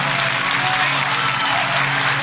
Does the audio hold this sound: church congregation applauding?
yes